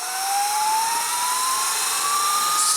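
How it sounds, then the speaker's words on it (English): Sur Ron Light Bee electric bike fitted with a KO F-Spec motor and controller, running at full throttle in sport mode: a steady, loud high-pitched motor whine rising slowly in pitch over wind roar, with no voices. "I'm going to put it back in sport. And we're going to go. That's full throttle."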